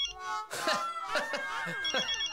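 A telephone rings with bright, repeated electronic tones in a comedy scene, heard close and fairly clear with little else around it.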